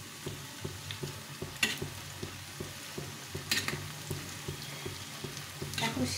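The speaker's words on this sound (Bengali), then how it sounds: "মুচমুচে করে ভেজে নিতে হবে।" Crispy potato pakoras deep-fry in oil with a steady sizzle up close, broken by a few sharp stirring clacks and scrapes as the pieces are turned.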